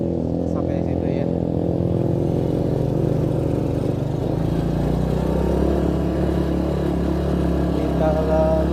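A motorcycle engine labours up a steep hill road near Soreang, a close, steady low chugging drone with a slight rising strain, voices talking over it.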